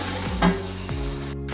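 Chopped tomatoes sizzle in a pot of Hoskote mutton dum biryani, a steady close frying hiss with a few brief utensil clinks against the pot.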